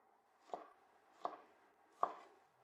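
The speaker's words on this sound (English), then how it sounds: "And now just cut it into pieces like this." A kitchen knife chops roast pork into pieces on a board, with three distinct, evenly spaced thuds about three-quarters of a second apart, close and clear with nothing else heard.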